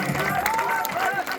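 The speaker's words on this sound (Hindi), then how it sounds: "एक बार जोर से ताली परमेश्वर की महिमा के लिए" Congregation at a Christmas church program in Himachal clapping loudly in a dense, continuous burst of applause, with some voices mixed in.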